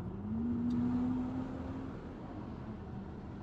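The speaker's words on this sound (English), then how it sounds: "I just got passed by a big old truck" A big truck passes a car on a rural Texas road, a low, rumbling engine drone with a faint rising tone that swells and then fades steadily under constant road noise.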